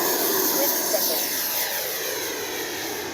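An FMS Avanti 90mm electric ducted-fan RC jet roars past in flight, a loud steady high-pitched whoosh that fades slightly as it moves away.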